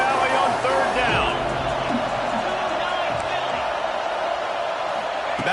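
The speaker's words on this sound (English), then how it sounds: "The noise from this big crowd in Happy Valley on 3rd down." A big crowd roars on third down at a college football game in Happy Valley, a dense, loud, continuous wall of stadium noise with scattered shouts and whoops and no break across the stretch.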